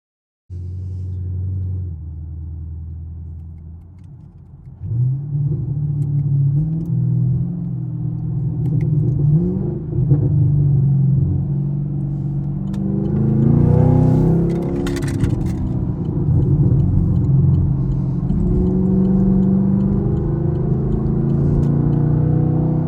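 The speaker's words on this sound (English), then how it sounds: "The Camaro following us." A Chevrolet Camaro SS follows closely in traffic, its engine a deep, loud rumble that swells and revs with rising pitch sweeps, heard nearby from inside a car, with no talking.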